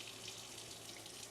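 Hot water runs steadily from an RV tap through a filter and softener system, a soft, even hiss of flowing water heard alone and fairly faint.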